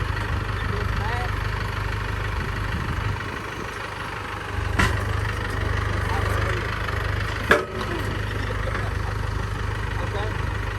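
A Mahindra tractor's engine idles with a low, steady rumble close by, broken by a couple of brief knocks or clanks, while the engine keeps running throughout.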